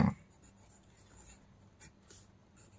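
A pen scratches across paper while a Hindi letter is written by hand, quiet intermittent strokes after a brief louder knock at the start, with no speech.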